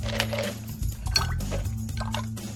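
Ice cubes go into a batch of homemade lemonade made with simple syrup, giving a few close clinks and liquid sloshing against a low hum.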